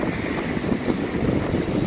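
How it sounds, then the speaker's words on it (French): Strong wind in a snowstorm in New York, a loud, steady roaring rush buffeting the microphone with no letup. "Le vent se lève très fort avec la neige qui te fouette."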